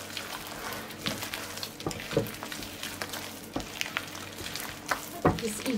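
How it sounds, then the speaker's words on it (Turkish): Hands knead a squishy mashed potato and egg mixture, giving soft wet squelches and irregular sticky slaps, close and fairly quiet, with no talking. "Şimdi bunları yoğuruyorum şöyle."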